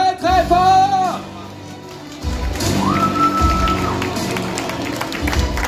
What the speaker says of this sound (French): Alors on les applaudit très très fort!